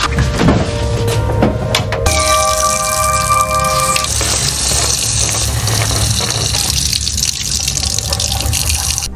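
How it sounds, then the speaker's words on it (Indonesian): Water runs steadily from a tap, a continuous loud splashing rush that carries on unbroken, with brief tonal chimes partway through and no talking. "Takut air keran sudah tercemar, Michelle langsung memberikan air tersebut"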